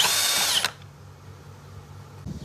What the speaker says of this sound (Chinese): 现在把蒸发器旁边的螺丝拆掉